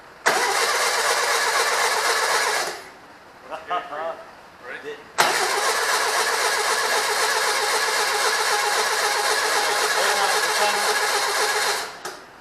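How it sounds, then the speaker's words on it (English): A rebuilt Volkswagen Bug engine cranks and fires, running loud and close for a few seconds, cuts out briefly amid clatter, then restarts and runs steadily at high revs, with talk under the running. "Go ahead and fire this bad boy up, do cam brake in."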